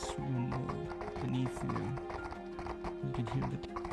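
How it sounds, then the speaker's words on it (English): Horse hooves clatter on cobblestones beside creaking wagon wheels in a VRChat medieval roleplay, a steady clip-clop rhythm of several close, loud strikes layered with a continuous hum and occasional voices. "You can hear the clatter of horse hooves"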